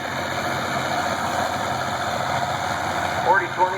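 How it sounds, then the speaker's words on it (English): Vintage power shift farm tractor, a 40-20, running with a steady engine drone at a tractor pull in Sharon Springs, New York, heard under an announcer's talk. "40-20 power shift, a very sought after tractor by collectors."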